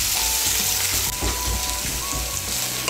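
Chopped onions frying in oil with green and red chillies, a loud close crackling sizzle that runs continuously with faint scraping underneath.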